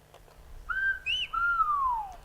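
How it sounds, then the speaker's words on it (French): Whistled speech reproducing the Spanish words adios and amigo: a few sustained, gliding whistled tones, rising then falling, clear and close with no spoken voice. "la parole sifflée sert à faire des phrases, pas juste des mots individuels"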